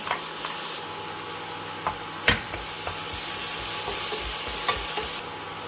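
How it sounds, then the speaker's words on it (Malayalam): Crushed garlic, shallots, dried chillies and curry leaves frying with popped mustard seeds in hot oil, a steady close sizzle with occasional stirring clinks and scrapes throughout. "കടുക് പൊട്ടിയിലേക്ക് ചതച്ച് വെച്ചിരിക്കുന്ന വെളുത്തുള്ളിയും ചുവന്നുള്ളിയും വറ്റൽമുളകും കറിവേപ്പിലയും കൂടെ ചേർക്കാം."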